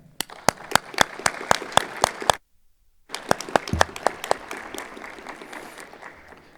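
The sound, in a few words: audience applause at a solemn session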